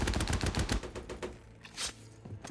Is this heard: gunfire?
yes